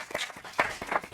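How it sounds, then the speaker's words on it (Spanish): Scattered audience claps at a book presentation, where a few hands clap unevenly in a quiet room, with brief louder bursts rather than a full ovation. "pues un aplauso, ¿no?"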